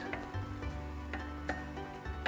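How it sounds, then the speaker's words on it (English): Garlic sautéing in a small amount of oil on a hot plate, a quiet steady sizzle with occasional light ticks and scrapes, accompanied by a low hum. "We saute the garlic first"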